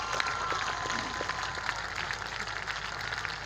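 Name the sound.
long applause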